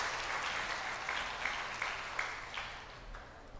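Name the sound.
audience applause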